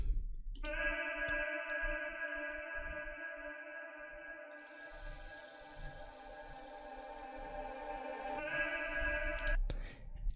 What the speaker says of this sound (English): a vocal shot with a lot of reverb